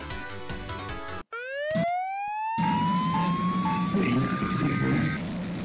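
The Siren Head mob in a Minecraft PE mod lets out a loud wailing siren after a brief cutout, its tone sweeping upward and then holding over a rumbling, noisy game background.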